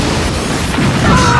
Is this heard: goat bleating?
no